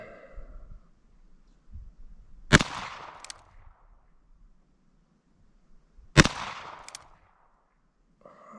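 Ruger Single-Six Convertible revolver fires two Winchester 30 grain polymer-tip .22 Magnum rounds, each a sharp, fairly close crack with a brief echoing tail, spaced several seconds apart, with faint low voice sounds in between.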